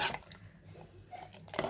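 Soaked rice tipped into a pot for mushroom biryani, giving a few soft metallic clinks and scrapes of a utensil against the pot, quiet and close, with no talking.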